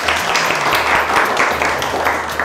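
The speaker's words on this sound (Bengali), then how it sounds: "জোরে হাততালি নিজেদের জন্য" An audience at a college quiz and game show at Bethune College bursts into loud, sustained applause, a dense crackle of many hands clapping without letup.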